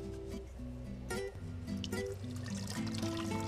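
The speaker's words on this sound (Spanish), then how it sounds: "debemos de llenar con agua" Water is poured into an emptied agrochemical container, a steady trickling stream with gurgling, bubbly notes that rise in pitch as it fills, close and continuous with no talking.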